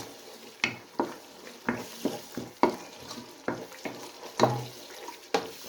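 Peas tossed into vegetables frying in a pan, with a soft continuous sizzle broken by a string of stirring scrapes and clatters at an irregular pace, close and moderately loud, with no talk.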